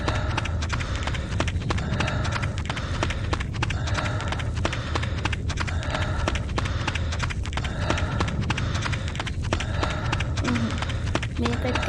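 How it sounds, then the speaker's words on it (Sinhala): In the Silent Maze horror video game, a pursuer's heavy stomping footsteps thud in a fast, steady rhythm under a constant dense rumble throughout, loud and close. "අර හත්ති දාන සද්දයක් කියන්නේ එයාගේ වෙන්න ඕන."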